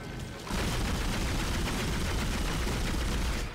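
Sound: gunfire from the player's gun in the video game Dead Space

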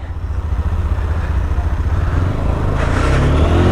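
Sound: motorcycle riding on a mountain road

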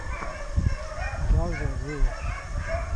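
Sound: hunting dog barking

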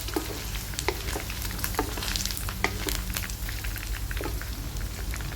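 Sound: frying in oil in a pan

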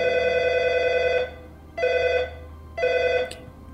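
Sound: mobile phone ringing

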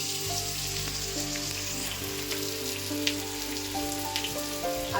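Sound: frying potatoes with turmeric in a pan

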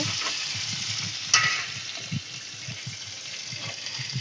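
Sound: lightly frying a vegetable curry in a pan

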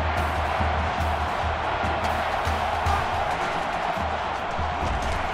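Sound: football stadium crowd cheering

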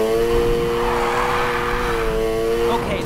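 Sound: car drifting in video game Need for Speed Heat

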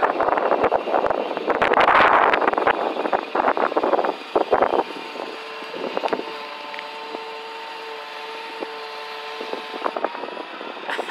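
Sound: wind blowing outdoors

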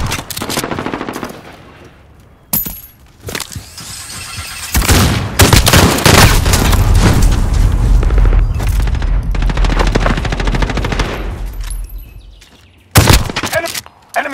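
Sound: turret gunfire in video game Call of Duty: Modern Warfare

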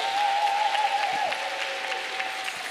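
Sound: audience applause for band member

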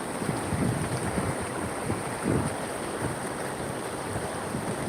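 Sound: flowing rainwater stream

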